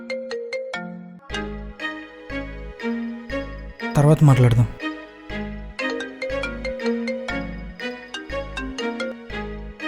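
A mobile phone ringtone plays a bright, repeating melodic pattern of tones. It runs steadily through the scene, with a short burst of voices cutting in midway.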